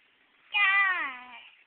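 A single clear cat meow, close and fairly loud, rises and then trails off over about a second against a quiet background.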